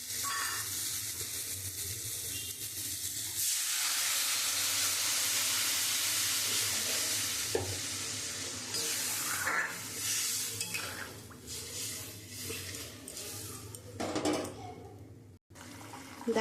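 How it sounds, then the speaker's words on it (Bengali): Water poured into a pan of sizzling fried spice masala for a Bengali fish curry with aubergine and potato, a loud rushing hiss of steam and bubbling that settles into steady simmering with occasional stirring clinks. "এবার আমি জল দিয়ে দেবো।"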